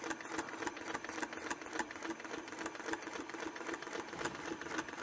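A sewing machine stitches a quilted oval table topper with short stitches, running as a steady, fast, even rattle that goes on without a break. The sound is close and fairly quiet, and nobody speaks.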